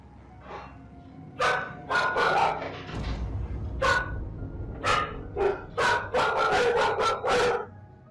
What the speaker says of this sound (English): the dogs suddenly become alert and begin barking toward an area of the room where nothing appears to be visible